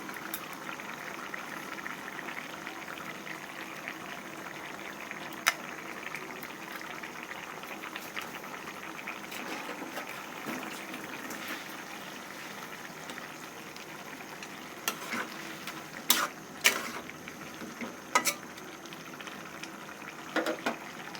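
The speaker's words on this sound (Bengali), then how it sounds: "আমাদের ভেজে রাখা চিংড়ি মাছগুলো দিয়ে দেবো" Steady sizzling and bubbling of a pan as pre-fried shrimp go into a Bengali shrimp chorchori, continuous hiss with a few faint clinks near the end and no talking.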